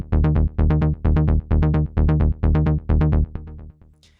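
A trance synth bass pulses in eight evenly spaced, punchy notes with a bright buzzy top, then a few quieter trailing hits fade out.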